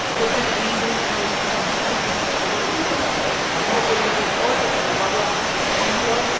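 Water rushes continuously, loud and dense like a waterfall, as apple crates plunge into a water flume at a fruit sorting line; someone speaks French under the steady roar.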